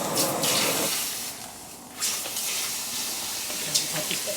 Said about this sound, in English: Keep pouring, keep pouring.